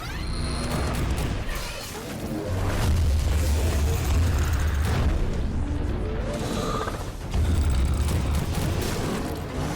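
Gunfire in the skibidi toilet zombie universe video game comes as repeated loud booming bursts and clattering mechanical noise in rapid volleys, fairly close and continuous across the clip.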